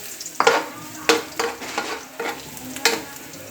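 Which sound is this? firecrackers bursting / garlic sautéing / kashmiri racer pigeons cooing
garlic sautéing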